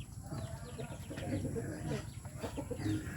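Chickens cluck in short bursts at close range, with a voice talking over them.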